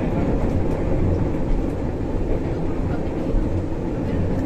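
KRL commuter train on the Solo line running, a loud, steady low rumble and rolling roar heard from inside the carriage, with faint announcements or voices beneath it.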